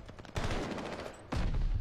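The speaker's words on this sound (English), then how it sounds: "Teammate was shooting at me, so I started shooting at him" Gunfire in a video game shootout, with two bursts of rapid shots: a longer rattling volley that trails off, then a second sharp burst near the end, loud and close.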